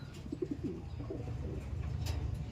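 An injured pet bird, likely a pigeon or dove, coos softly in a few low, repeated notes near the start, then fades into a steady low background hum.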